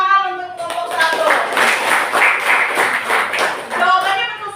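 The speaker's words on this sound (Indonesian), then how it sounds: "Luar biasa, tepuk tangan untuk kelompok 1." A classroom of students clapping for a group, a dense burst of hand claps that starts after a short voice and keeps going at even strength.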